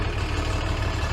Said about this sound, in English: If the tractor's a little loud